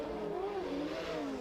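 Drift car with over 900 brake horsepower revving hard on a qualifying run at a drift championship in Oman, a loud, steady engine roar with rising and falling pitch.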